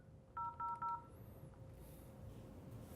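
Three short two-tone telephone keypad beeps dialing an office extension on a business phone system, evenly spaced and clear over a steady low background hum, followed by faint noise.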